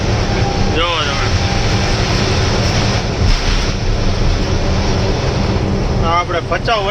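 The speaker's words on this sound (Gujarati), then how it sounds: "અને નીચે જોવો ટ્રેન હાલી જાય છે બ્રિજ હેઠે" A train rolls along on the tracks below a road bridge near salt heaps in Kutch, heard as a loud, steady rumble and rattle mixed with vehicle and wind noise from a moving car, with a few faint squeaks.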